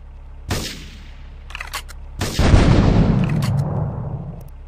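Gunfire and explosions in the video game GTA 3 at a harbor: two loud, sharp blasts, the second followed by a sustained roaring rumble with scattered crackling shots, and no talk over it.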